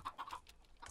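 Minecraft chickens cluck in a short run of several clipped calls, close and moderately loud, with no talk over them.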